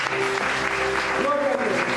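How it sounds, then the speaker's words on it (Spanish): A church congregation gives a loud, steady round of applause during a Spanish-language worship service, a dense wash of clapping that fills the whole moment, with a sustained musical tone underneath. "Dale una fuerte ofrenda de palmas a Él."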